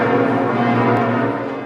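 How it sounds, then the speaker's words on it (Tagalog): Church bells ring at Notre Dame Cathedral in Paris as a steady, sustained peal with layered ringing tones that fill the whole stretch without a break. "Sa Notre Dame Cathedral sa Paris, pinatunog din ang kampana."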